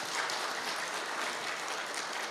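A church congregation applauds during a worship service after a praise team sings, a dense even patter of hands at moderate level, continuous with no talk over it.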